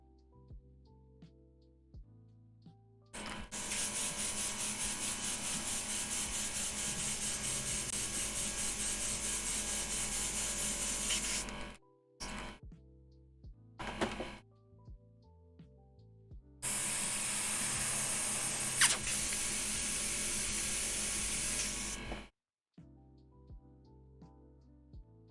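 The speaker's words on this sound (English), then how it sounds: "My compressor's being extra noisy tonight." An air compressor running louder than usual, a steady, harsh broadband roar in two long stretches, briefly cutting out and restarting in between, with a quieter low hum in the gaps.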